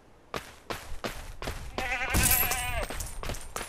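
A goat in the Lego Worlds video game bleats over a run of sharp rhythmic clicks or footsteps, the wavering bleat rising loud in the middle of the clip before the clicking resumes.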